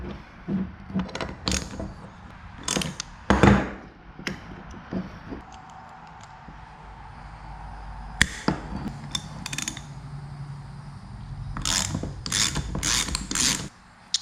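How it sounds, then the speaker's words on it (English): Needle nose vice grips clamp and work a 21mm nut loose while an HKS SSQ blow-off valve is torn down on a 700HP Supra build, giving close, irregular metallic clicks, clunks and ratcheting bursts separated by quiet gaps. "So I'm gonna try this approach. It's a pair of needle nose vice grips."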